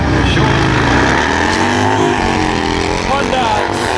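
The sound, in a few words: Harley and Honda CBR 650R motorcycles drag racing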